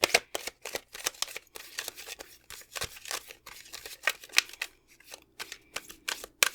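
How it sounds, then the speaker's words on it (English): A deck of oracle cards is shuffled by hand in a quick, uneven series of crisp riffling and slapping bursts with short pauses between them. The sound is close and clear, with no voices. "bit of a messy shuffle there"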